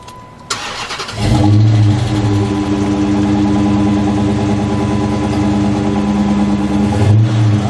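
A car engine cranks briefly, catches, and settles into a loud, steady idle with a slight rev near the end, heard close up with no talk.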